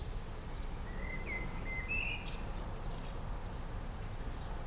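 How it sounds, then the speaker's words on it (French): Blackbirds give faint, brief chirping notes outdoors over a low, steady rumble of background noise. "Ce sont des merles."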